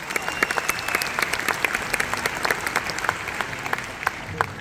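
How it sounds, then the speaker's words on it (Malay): Audience applause at a recognition event for business founders, a dense steady patter of many hands clapping throughout, moderately loud with a faint voice beneath. "Tepukan tahniah lagi sekali untuk anda."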